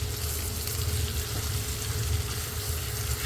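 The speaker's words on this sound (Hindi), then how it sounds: "अब हम इसकी भुनाई करते हैं मिक्स करके" Onions and mashed potato fry in a pan for aloo bharta, a loud, dense, continuous sizzle with faint stirring underneath.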